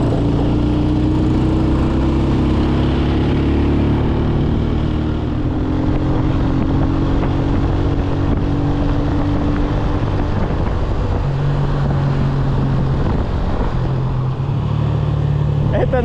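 Continuous engine drone and road rumble from cars and loaded trucks driving on a Pakistani road toward a waterfall, heard from inside a moving vehicle with a voice talking over it.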